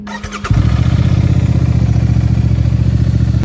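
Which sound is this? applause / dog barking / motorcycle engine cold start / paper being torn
motorcycle engine cold start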